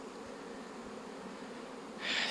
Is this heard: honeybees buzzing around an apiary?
yes